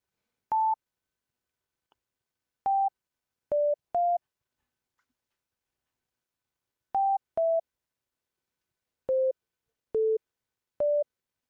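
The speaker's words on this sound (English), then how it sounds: "So that's what the sine wave sounds like." A synthesizer plays a basic single-voice sine wave as a series of short, pure, smooth beeps at a few different pitches, separated by silence, clean and isolated.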